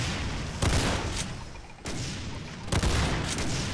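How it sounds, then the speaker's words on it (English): A shotgun fires in Brutal Doom Project Brutality, three heavy, booming blasts spaced about a second apart over a constant roar of game noise. "Let's stick with the shotgun."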